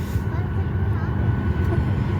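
Steady low engine rumble and broad cabin noise from an airplane waiting before takeoff, a continuous hum filling the space with faint voices underneath.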